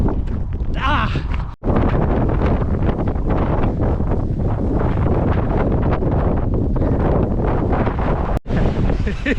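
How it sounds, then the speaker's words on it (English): Strong wind on an exposed Iceland mountain hike, a loud, continuous roaring gust buffeting the microphone, with two brief breaks. "The wind is blowing."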